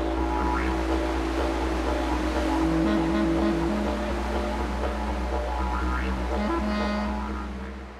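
A boat runs out on wide tidal water with waves and surf, heard as a loud, steady low engine drone under broad washing water noise, continuous throughout and fading slightly at the end.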